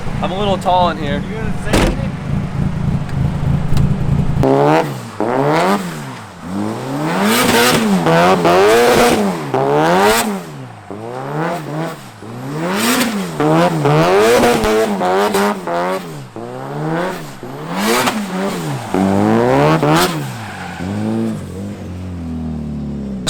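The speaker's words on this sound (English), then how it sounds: "Jimmy wants to do some donuts" Car doing donuts and drifting in the rain, engine revving hard in repeated rising and falling sweeps for about twenty seconds, with loud tire squeal throughout and a brief bit of talk and idle before it starts.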